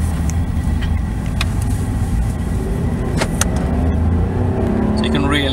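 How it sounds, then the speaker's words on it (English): A Maserati Quattroporte Executive GT engine drones steadily from inside the car on the road, a low, continuous rumble with rising revs, while people talk over it. "you can really hear the revs coming out of the Maserati"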